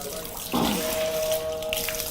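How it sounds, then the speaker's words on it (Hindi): A bucket of water is poured over a Shiva lingam at a temple, giving a steady splashing flow that swells briefly then continues under a faint background hum. "मैं पूरी 1 बाल्टी पानी पूरा इस शिवलिंग पे चढ़ाती हूँ"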